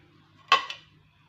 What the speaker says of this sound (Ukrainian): Спочатку на тарілку я викладу наші кебаби.